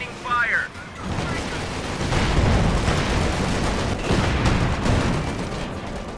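Sustained battlefield gunfire and explosions from Company of Heroes 2, dense rattling bursts and booms running continuously, with a brief radio-style voice line near the start.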